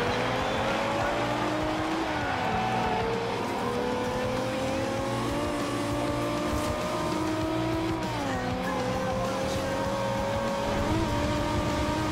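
A car engine accelerating in Forza Horizon 2 during a JDM Icons race, a loud continuous whine that rises through the gears with repeated shift dips and some tire noise.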